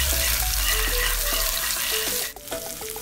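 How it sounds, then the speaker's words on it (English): Dried baby anchovies stir-fried with minced garlic in olive oil, a loud close sizzle with quick repeated scraping and clinking of the spatula against the pan. "stir-fry minced garlic and optional ground peppers in olive oil first, then add dried baby anchovies in"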